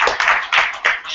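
A small group claps in thanks to the Good Hotel at a live podcast recording during GDC 2015, a few short bursts of hand claps close by.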